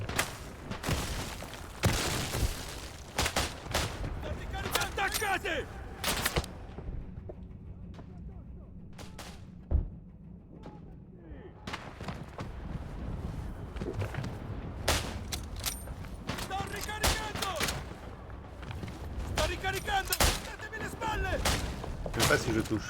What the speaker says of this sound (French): C'est où que ça me tire dessus?